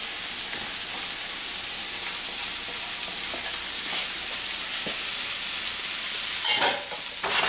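Corn tossed into a pan with butter, softened onions and scallion whites, sizzling and frying steadily with faint stirring scrapes, close and fairly loud throughout, no talking.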